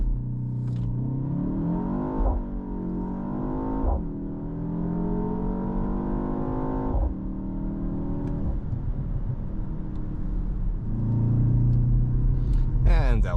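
A 2024 BMW X2 in sport driving mode makes a launch-control start: its engine revs hard and climbs through several gear-shift steps with a loud, continuous roar. The engine surges again near the end, and a person talks over it.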